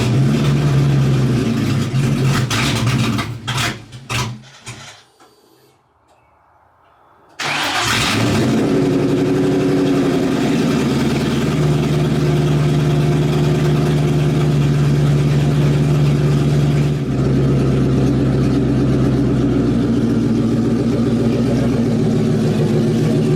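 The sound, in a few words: car engine idling after cold start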